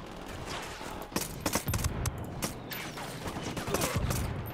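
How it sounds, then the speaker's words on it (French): Mortar rounds and gunfire in a Ghost Recon Wildlands firefight form a steady rattle of shooting, with several sharp, heavier blasts landing at irregular intervals. "I called the rebels for mortar fire"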